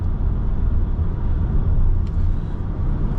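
Steady low road rumble and tire noise inside a Renault Kangoo E-Tech electric van with a 120 hp motor, driving at moderate speed, continuous and even with no talking.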